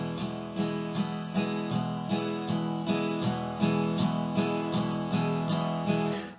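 An acoustic guitar is strummed evenly in alternating downstrokes and upstrokes at 80 bpm, giving a clear ringing chord that pulses about twice per second across the whole passage with no talking.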